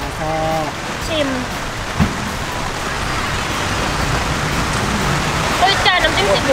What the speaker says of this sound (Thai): เสียงเริ่มสู้ฝนไม่ได้แล้ว